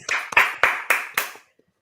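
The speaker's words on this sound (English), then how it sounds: "Golf clap." Five crisp handclaps come in a steady, slow rhythm, a close, polite golf clap that stops and leaves near silence.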